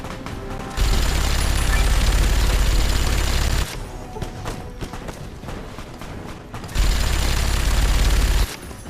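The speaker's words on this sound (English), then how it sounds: "I have a fucking minigun" A minigun fires in the game Fallout: New Vegas in two long sustained bursts of rapid, dense, loud gunfire, separated by a short quieter gap, with no speech.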